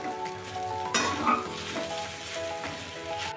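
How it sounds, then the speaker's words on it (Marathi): Sabudana khichdi with crushed peanuts and salt being stirred in a pan, giving a steady soft sizzle with a scraping, shuffling stir and a few louder clatters near the middle. "व्यवस्थित मिक्स करून घ्यायचं"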